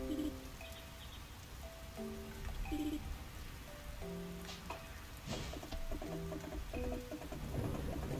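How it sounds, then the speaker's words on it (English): Steady soft rain patters throughout a Fields of Mistria day, a constant wash beneath gentle tonal game music with occasional brighter drips or chimes. "It's a rainy day."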